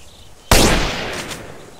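Single sharp sniper rifle shot in GTA San Andreas with an HD weapon pack, a loud abrupt blast followed by a long decaying tail, heard alone.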